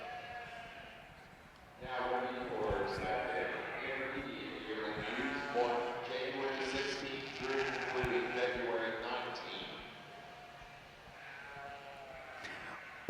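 Ewes bleating repeatedly in a livestock show ring, a chorus of overlapping calls of varying pitch carrying on steadily for about eight seconds amid crowd murmur, then easing off.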